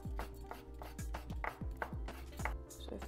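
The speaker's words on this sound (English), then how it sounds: "we're just going to sort of slice them like this, make thin slices." Knife thinly slicing soaked shiitake mushrooms on a cutting board, a steady run of crisp, close chopping taps, about two or three per second.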